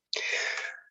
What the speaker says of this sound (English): Let's sneeze.